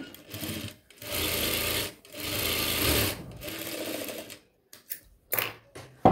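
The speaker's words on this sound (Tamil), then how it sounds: "திருப்பிட்டு கிளாத்துடைய ஓர பக்கத்தில் இன்னொரு ஸ்டிச் பண்ணிக்கலாம்" Sewing machine stitching along the edge of a chudithar lining fabric, running in three long bursts of steady whirring with brief pauses, then short stop-start stitches near the end, close and loud with no talk.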